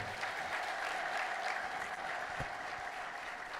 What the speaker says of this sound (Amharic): በሰላም በሰላም አጨብጭቡላቸው